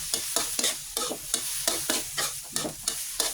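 Fish and Chinese celery are stir-fried in a pan, with a spatula scraping in quick, regular strokes over a soft, steady sizzle, close and clear, with no talking.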